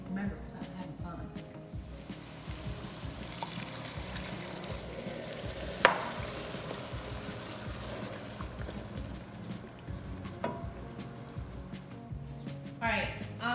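Wine poured into a pan for marinara sauce bubbles and sizzles steadily as it reduces, a continuous close frying hiss with a sharp clink midway and soft stirring noises.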